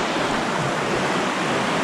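River rapids on Vancouver Island where the river narrows, a steady, dense rushing roar of fast water filling the whole stretch, close and loud with no talk.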